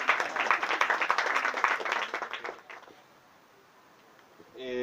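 A small audience at an open-air poetry night on the Loma de la Cruz claps to welcome a poet, a lively patter of hands for about three seconds that fades into quiet, with a voice starting up at the end.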